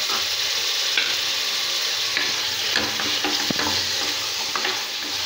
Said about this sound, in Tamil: தக்காளியும் நல்லா வதக்கிக்கலாம்.